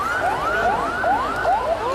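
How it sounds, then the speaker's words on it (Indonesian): An ambulance siren wails in rapid repeated rising sweeps, several cycles in two seconds, moderately loud over a background hum. "kok ambulan ya"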